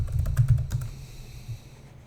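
A quick burst of keystrokes on a computer keyboard entering a terminal command, close and clear, followed by a faint tap and quiet room tone.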